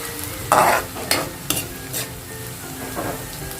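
Ginger and garlic frying in hot oil for spicy Filipino shrimp bagoong, with a steady sizzle broken by several loud bursts of stirring and scraping in the pan, close and without talk.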